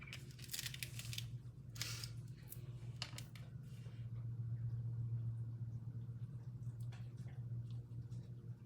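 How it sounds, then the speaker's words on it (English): Scissors snip through paper during a Stampin' Up card-making session, several quick close cuts in the first few seconds over a low steady hum, then quieter handling sounds. "I got these scissors and I love them."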